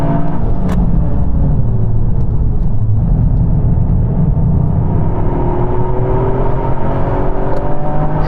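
A Toyota GR Yaris pushed hard on a race track, its engine droning loud and steady throughout with rising and falling harmonics as it pulls through the gears, no voices over it.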